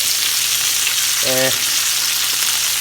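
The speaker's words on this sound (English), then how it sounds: "So you hear all those crackles? That's a good sign." Steak fries in a pan with a loud, dense, unbroken sizzle and crackle, close up, and a short voice-like tone briefly rises through the middle of it.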